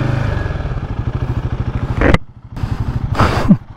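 Royal Enfield Guerrilla 450 motorcycle (2024, roughly 450cc) pulling away in first gear on a racetrack, a steady close engine thrum with a brief sharp clatter near the middle, a drop, then the engine picks back up.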